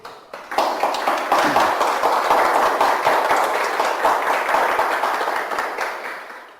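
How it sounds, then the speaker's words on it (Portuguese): Sunday-morning church congregation applauds to praise Jesus, a sustained burst of many hands clapping that starts abruptly, stays even and full, then fades at the close, with no talking. "Muito bem, então, aplauda Jesus."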